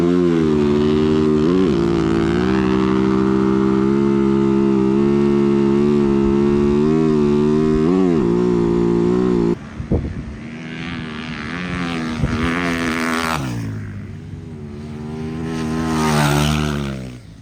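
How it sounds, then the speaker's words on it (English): Motorbikes racing across Glamis-style sand dunes, one bike running on a single cylinder; a loud, close engine drone holds steady, then cuts and gives way to rising and fading revs from farther off. "My bike's running on one cylinder."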